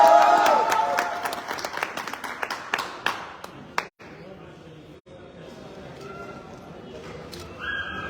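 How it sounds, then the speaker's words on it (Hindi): An audience at a luxury car achievers' celebration breaks into loud applause, strong clapping at first that thins out into scattered claps, with a voice speaking underneath. "जोरदार तालियां"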